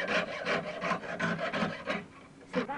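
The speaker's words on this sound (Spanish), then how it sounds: "Proceso de limado se llama esto." Hand filing on metal fretwork, a rasping file stroked back and forth in a steady rhythm of about eight close, loud strokes, a short pause, then one more stroke.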